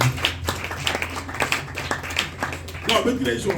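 A church congregation claps in a steady rhythm, sharp repeated hand claps beneath loud voices calling out and talking throughout.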